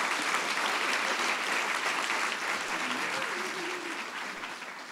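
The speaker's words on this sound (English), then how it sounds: "give a big round of applause to all the panelists" An audience at a panel event gives a dense, sustained round of applause for the panelists, a loud, even wash of clapping with faint voices beneath it that eases slightly toward the end.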